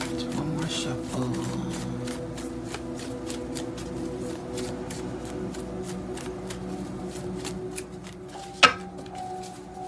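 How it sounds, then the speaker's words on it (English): Tarot cards are shuffled steadily by hand for about eight seconds, a continuous close papery riffle and slide that ends with a sharp tap as the deck is squared. "One more shuffle."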